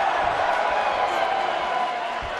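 A wrestling match crowd roars in a steady, dense wash of cheering, loud and continuous throughout.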